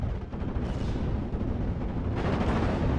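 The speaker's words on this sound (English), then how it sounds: "We got the mortars being thrown in now." Mortar fire in the World War II strategy game Steel Division 44: a dense, continuous rumble of distant artillery blasts and crackling gunfire, steady and loud throughout with no voices.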